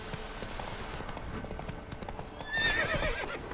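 Horse hooves clip-clop in The Witcher 3 video game as the horse is ridden. The hoof beats are steady and even, and a short whinny rises near the end.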